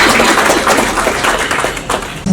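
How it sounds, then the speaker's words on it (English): Audience applause at an awards ceremony, the WEE-E4BM Achievers' Awards 2024: dense, steady clapping from a sizable crowd, loud and continuous, fading slightly toward the end. "A round of applause for Ms. Alpasha for being with us."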